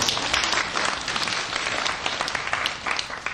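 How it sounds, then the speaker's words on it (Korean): Listeners at a Christian worldview lecture break into moderate applause, a lively patter of many hands that holds fairly evenly for a few seconds, with no talking over it. "박수 한번 쳐주시죠."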